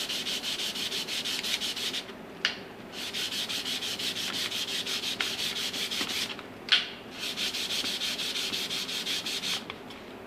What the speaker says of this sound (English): I'm still giving them all a light sanding anyways